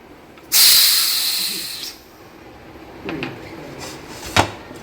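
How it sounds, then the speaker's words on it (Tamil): A pressure cooker holding coconut rice pulao lets out a loud, close hiss of steam that slowly tapers off. A few soft knocks and a faint clatter follow as the cooker settles. "இப்போ குக்கரு ரிலீஸ் ஆகிடுச்சு"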